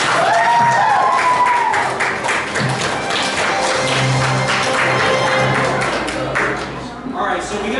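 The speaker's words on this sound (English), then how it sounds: "so let's give him a round of applause" A crowd at an anime convention game show claps for a contestant, with loud close applause and some cheering at the start that thins out as a voice talks over it.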